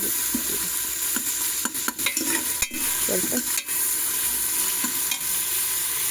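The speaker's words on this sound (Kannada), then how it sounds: "ಬಟಾಣಿ ಕೂಡ ಕೆತ್ಕೊಂಡಿದ್ದೀನಿ ಪಲಾವ್ಗೆ" Green peas frying in a pan for pulao, a continuous close sizzle broken by sharp scraping clicks of a spoon stirring against the pan, with no talking.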